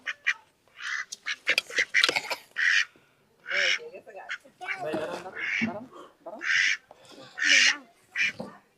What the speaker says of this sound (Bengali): এই যে দুইটা হাঁস এই দুইটা হাঁস ওজন কেমন হবে